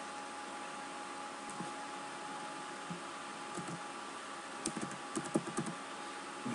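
Computer keyboard keys tapped in short irregular bursts while typing code, faint and close, over a steady background hum from the computer.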